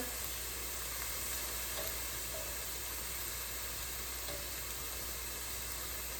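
Shrimp sizzle steadily in a hot pan as they are turned over, a continuous close frying hiss with a few faint clinks, no voices.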